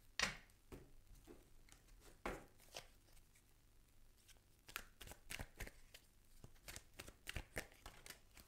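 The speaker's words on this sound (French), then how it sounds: "on mélange les cartes avec les Gémeaux" Tarot cards are shuffled close to the microphone in quiet, irregular riffles and soft slaps, with scattered sharp snaps that keep going steadily throughout.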